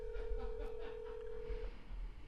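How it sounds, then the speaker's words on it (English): A phone number being dialed on a telephone, a single steady tone holding for over a second amid faint background noise, with no talking. "Let me dial it, and then my phone will, my name will."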